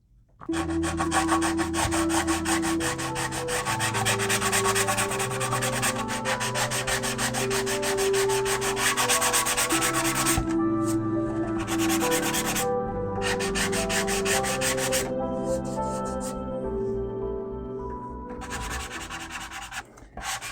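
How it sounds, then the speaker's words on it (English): Steady back-and-forth rasping of hand sanding an RC car body with a block, close and continuous, with brief pauses between strokes and no talking. "Got my trusty sanding block. Let's start sanding."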